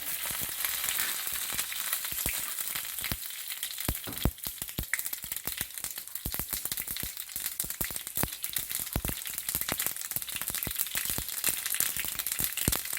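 Rapid, irregular pops and crackles of mustard seeds spluttering in hot oil, continuous over a steady sizzle, close by with no talking.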